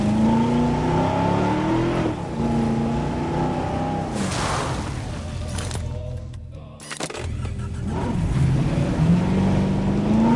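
Ranger vehicle engine from Jurassic World Evolution drones loudly and steadily, its pitch rising and falling as it revs, with a brief dip partway through before surging again.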